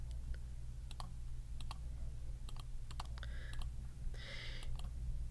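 Sharp mouse clicks on a computer while drafting a part in CAD software, arriving in scattered single and double taps over a steady low hum, with faint keyboard-like ticks and no talking.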